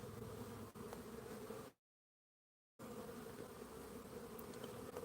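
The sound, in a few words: bees buzzing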